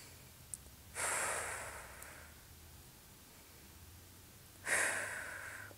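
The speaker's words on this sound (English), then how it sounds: "Couple deep breaths here." Deep breaths taken while holding a stretch during an upper-body strength workout, two distinct airy exhales a few seconds apart, close and soft against a quiet background.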